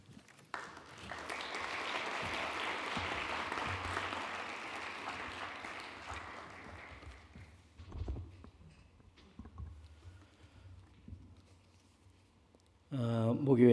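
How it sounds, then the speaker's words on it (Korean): A congregation at a seminary chapel homecoming worship service claps in welcome, steady moderate applause that fades out after several seconds, followed by quieter room noise. "나오실 때 환영의 박수를 부탁드리겠습니다."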